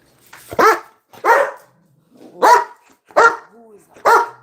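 Dogs bark loudly and close by, five sharp barks spaced roughly a second apart, with faint whining between some of them.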